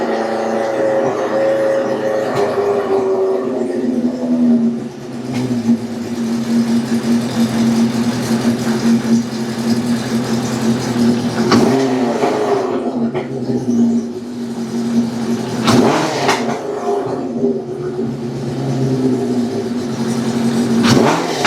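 A revived Honda CB750 motorcycle engine runs steadily near the microphone, a loud continuous drone with a few sharp throttle blips and rising revs.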